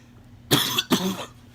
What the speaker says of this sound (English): I cannot handle this cough.